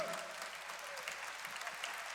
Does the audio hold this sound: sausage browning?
no